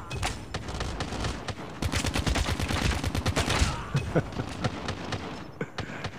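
Gunfire from a shooting video game rattles in dense rapid bursts, loud and close, with sharper single shots and game effects in the second half, and a voice speaks briefly.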